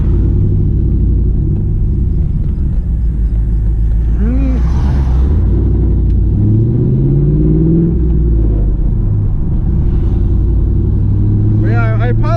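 A 2001 Pontiac Trans Am engine and exhaust hum with a deep, smooth, steady rumble from inside the moving car, rising and falling gently throughout, with someone talking over it.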